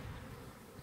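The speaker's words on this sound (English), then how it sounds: "Alright, so these bees are hived. There's a couple flying around." Newly hived honey bees buzz close to the microphone in a soft, continuous hum with no speech.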